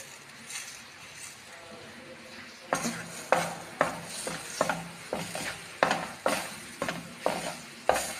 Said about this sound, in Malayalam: അതുവരെ ജസ്റ്റ് ഒന്ന് വെയിറ്റ് ചെയ്യണം ആ മുട്ട ചിക്കുന്ന വരെ